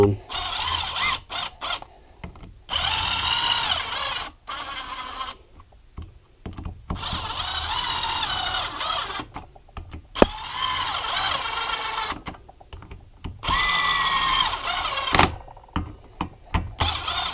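A power tool runs down the 10 mm clutch cover bolts on a 2015 Yamaha YZ250FX motorcycle engine, whirring in several loud bursts of a few seconds each, separated by short pauses.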